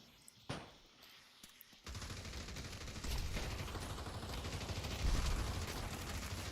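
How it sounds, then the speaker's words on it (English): Dense, continuous gunfire in the VR shooter Pavlov during a competitive championship match, with an isolated shot early on, then sustained bursts and rattling volleys that grow louder and keep going without a break. "There's just gunfire and pre-fire everywhere."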